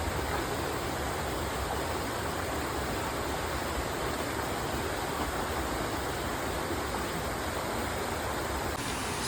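Rushing water from a mountain stream in Tai Shing Stream on a rainy trekking day, a loud, steady broadband roar that stays close and unbroken throughout, with no voices over it.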